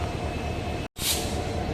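A Madurai–Rameswaram passenger train pulled by a diesel locomotive rumbles past with a steady heavy drone and rattling, cut by a momentary gap before the loud running noise resumes.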